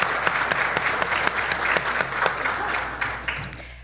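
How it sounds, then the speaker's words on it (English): Audience at a Teacher of the Year ceremony applauds warmly, a dense, steady patter of many hands with a few sharper claps standing out, carrying on for several seconds before tapering slightly. "Let's give them another round of applause."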